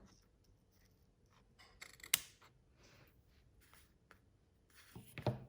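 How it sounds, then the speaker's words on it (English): A few crisp snips of scissors cutting through ribbon, two distinct cuts separated by quieter handling noises, close up in a quiet room. "Ribbon scissors are better."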